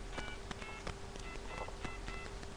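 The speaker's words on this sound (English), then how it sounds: "We're phoning Celebrity Wheelchair Accessible Taxi and pretending that we think it's a pizzeria." A telephone number being dialed, a quick series of short faint tone beeps in an uneven rhythm over a low background hum, no speech.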